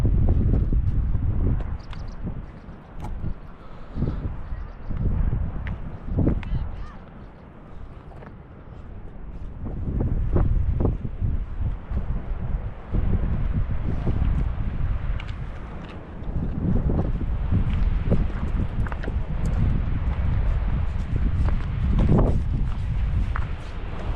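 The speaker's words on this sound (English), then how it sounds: "It's way too windy for that shit." Strong wind on the Irish coast buffeting the microphone in heavy, continuous low roaring gusts that swell and ease, with occasional thuds that could be footsteps.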